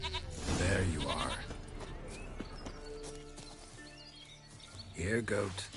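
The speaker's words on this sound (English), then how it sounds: "Here, goat." Bleating from a goat in The Witcher 3 rises over hoof clip-clops and background game ambience, two clear cries near the start and end, with a voice talking in between.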